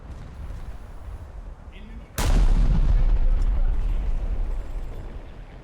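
A heavy cruiser's naval guns fire in War Thunder, a single loud booming blast with a long rumbling tail that sustains after a quieter stretch of engine and ambient noise.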